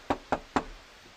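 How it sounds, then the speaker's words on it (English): Knocking on a door, three sharp evenly spaced knocks heard close and clear, with no voices. "We knocked on the door."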